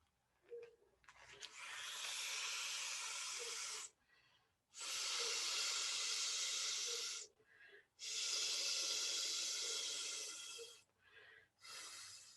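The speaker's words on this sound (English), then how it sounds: "I'm going to blow up my beach ball." A beach ball is inflated by mouth in three long, breathy blowing bursts with short gaps between them, close and soft, no talking.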